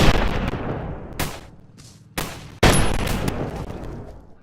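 Sniper rifles from both teams in a video game crack in a few loud, abrupt shots with echoing decays, the last one sustained and rumbling, with no talking.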